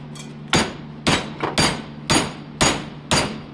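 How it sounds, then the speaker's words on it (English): A hammer strikes a bent brake lever on a TTR 230 dirt bike to straighten it: six loud, sharp metallic whacks at a steady rhythm, close up, with a smaller tap in between, and no talk. "take a mechanical hitting device and whack it back into straight"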